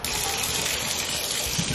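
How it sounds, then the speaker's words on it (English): Tap water gushing strongly into a tub during a bath for rescue puppies, a loud continuous splashing rush with no pauses. "let's get the water flowing back up"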